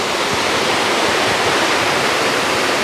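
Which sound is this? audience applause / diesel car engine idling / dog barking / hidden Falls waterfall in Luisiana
hidden Falls waterfall in Luisiana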